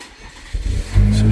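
Truck engine starting up, a brief cranking rumble that catches into a loud, low steady idle within about a second.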